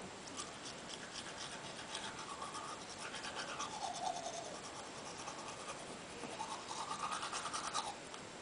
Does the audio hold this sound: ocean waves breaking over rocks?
no